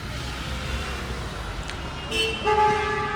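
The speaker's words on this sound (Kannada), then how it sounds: "full horn sound ಕೇಳಿಸ್ತಿರ್ಬೋದು" Vehicle horns honk on the Pahalgam highway through Anantnag city, with a steady traffic rumble and a couple of loud, sustained toots near the end.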